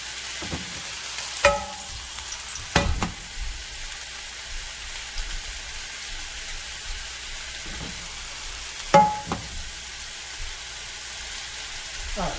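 Steak and olive oil frying in a pan, a steady soft sizzle running throughout with a few brief louder clatters and stirs, no talking.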